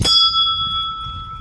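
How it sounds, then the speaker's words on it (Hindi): A Shiva temple bell is struck once near the start, ringing out a clear metallic tone that lingers and slowly fades with no voices over it. "घंटी बजाना"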